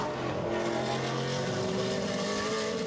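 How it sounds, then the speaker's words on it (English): A Porsche GT race car at the Zandvoort circuit during a Blancpain Sprint Series race, its engine howling loud and sustained at high revs with a slowly rising pitch, close and continuous, without speech. "So Jaap van Lagen goes through up into third position then in the Porsche."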